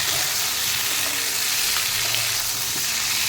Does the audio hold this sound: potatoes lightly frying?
yes